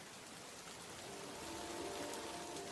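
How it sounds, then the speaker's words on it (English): Steady rain falls in a dense, moss-covered Patagonian forest, a soft continuous hiss with faint patter, distant and quiet, gently swelling partway through, with no voices. "raindrops cascading from the rain gear"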